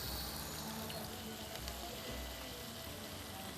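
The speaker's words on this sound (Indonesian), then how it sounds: "Nah, pemirsa, seperti ini kita goreng sekaligus." Oil sizzles and crackles steadily as battered food deep-fries, a dense hissing texture close by.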